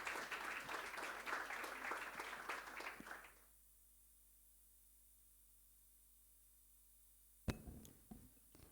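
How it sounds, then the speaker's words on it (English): Audience at an interfaith conference applauding a speaker, a dense, hissy round of clapping for about three seconds that cuts off into near silence, followed by a couple of brief knocks. "Let's give her an applause and let's get started."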